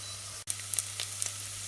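Onions soften without colour in a pan over medium heat, a quiet close sizzle with scattered small pops and crackles after a brief dropout.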